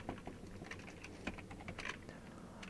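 Quiet, irregular clicks from a computer keyboard being typed on during a Unity game-development tutorial, with short bursts of keystrokes and small pauses, close by and faint.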